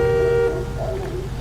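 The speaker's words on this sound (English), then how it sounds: "Apparently people honk at cops in this game" A car horn honks once in L.A. Noire, a short steady blare lasting about half a second, followed by low traffic rumble.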